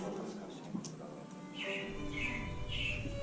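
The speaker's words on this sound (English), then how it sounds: "it looks like the Robins are getting ready to celebrate Valentine's Day today" Robins at the Carousel of Progress attraction in Magic Kingdom, Walt Disney World, chirp several times in quick, bright tweets over a quiet, murmuring background.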